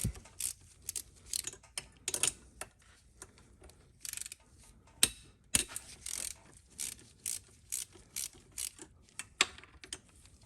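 Rapid ratchet clicks and sharp metallic ticks come in short, irregular bursts as a wrench works loose the bolts on a Honda XR650 engine during a top-end teardown, close and fairly loud.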